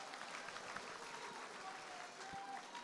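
Audience applause at a political party delegates' convention in Busan following a party leadership candidate's speech, a steady wash of clapping sustained at a distant, even level throughout.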